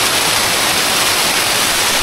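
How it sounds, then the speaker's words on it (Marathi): A waterfall at a scenic falls spot roars in a steady, dense rush of water close by, continuous and unbroken, with no voices over it. "ॲक्च्युली धबधबा आहे फक्त पाणी आहे"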